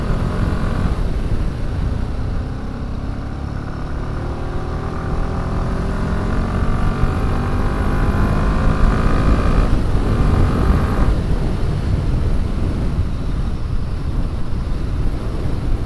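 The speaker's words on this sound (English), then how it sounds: "I don't want to rev this too hard because it's quite new, obviously, but yeah, it does seems to be happy to continue to rev as it goes up the range." Royal Enfield Himalayan 450 single-cylinder motorcycle engine revving steadily and climbing through the range, loud and close, with rising pitch sweeps over a rough, constant drone.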